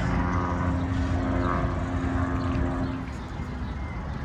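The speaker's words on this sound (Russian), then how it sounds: "У нас тут прилетел самолет посмотреть на наш фэтбайк." A propeller airplane passes overhead with a steady, throbbing engine drone, moderately loud and sustained, fading slightly toward the end, outdoors with no talking.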